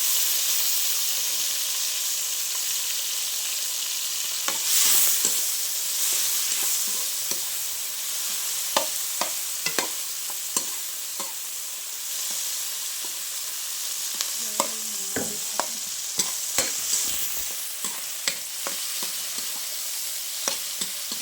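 Food sizzles steadily as it fries in a pan, with intermittent scraping and clattering from stirring breaking through the constant hiss, all close and without talk.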